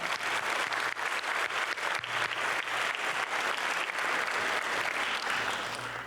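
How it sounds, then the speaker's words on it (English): Audience at a STEM fair awards ceremony applauds steadily, a dense sustained wash of many hands clapping that carries on for several seconds without pause. "Big round of applause to you"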